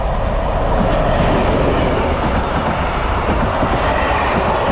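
A train on a Slovak railway, loud and steady throughout with continuous wheel and car rumble rolling past close by, no voices.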